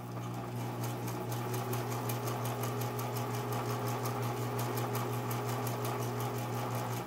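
A Singer Imperial sewing machine sews small stitches, a steady rapid mechanical clatter with an even motor hum, running continuously and close by.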